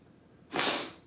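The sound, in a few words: sniffing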